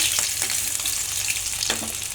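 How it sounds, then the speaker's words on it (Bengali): Boiled eggs with tomato sizzle and spatter steadily in a hot pan, a close, continuous frying hiss with a few scraping stirs. "তো টমেটো দিয়ে ডিম সেদ্ধটা এখন একটু ভুনা করে নেব"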